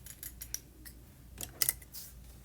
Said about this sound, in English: take my paper snips